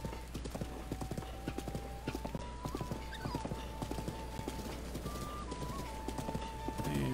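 Horse hooves clip-clopping steadily through Zelda: Breath of the Wild, with a whinny and game music, loud and continuous over about seven seconds.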